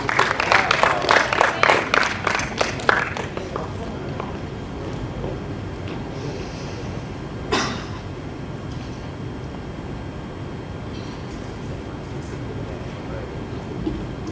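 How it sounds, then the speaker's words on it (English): Audience at a student council manifesto night clapping in a quick, lively burst for about three seconds, then fading into quiet room noise with a single sharp knock midway. "Round of applause, please."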